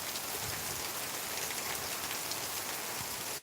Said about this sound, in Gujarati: કારણ કે હવે સામો વરસાદ આવવા મળ્યો